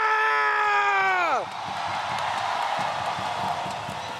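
Indonesian crowd at an esports match roaring and cheering loudly, with screams and whoops swelling across a big arena after a tonal musical sting cuts off.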